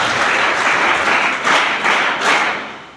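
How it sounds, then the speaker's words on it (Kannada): An audience at a school talk on exam fear breaks into applause: loud, dense clapping from many hands, swelling in a couple of waves before fading out. "ಈಗ ಹೊಡಿಬೇಕಿತ್ತು ನೀವು ಚಪ್ಪಾಳೆ ಹೊಡಿಲೆ."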